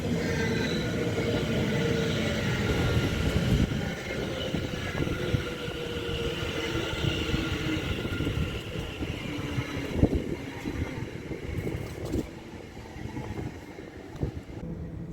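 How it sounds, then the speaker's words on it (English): A passenger train bound for Ipswich pulls into platform 3 at Shenfield station in Essex, a steady broad rumble of wheels and carriages rolling close by throughout, with occasional sharper knocks as it slows. "Train stopping at platform 3."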